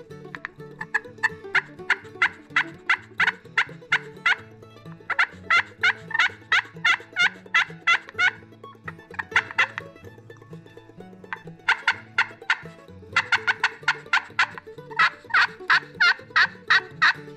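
A hand-operated slate-style turkey call imitates a wild turkey, sounding repeated bursts of raspy yelps and clucks in rhythmic runs with short pauses, close and clear with no talking.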